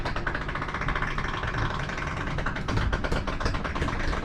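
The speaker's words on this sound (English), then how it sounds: "The noise you hear is just the rubber stoppers," Slide-out on a Catalina 263RLS RV retracting, with a steady mechanical motor drone and irregular rubbing and tapping from the rubber stoppers and seals, continuous and fairly close throughout, with no talk.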